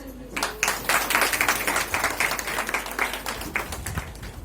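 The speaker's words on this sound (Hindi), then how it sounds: "तालियां रुकनी नहीं चाहिए।" An audience at an award ceremony for an IT award, female category, claps in a dense, sustained burst that swells and continues, with some voices mixed in.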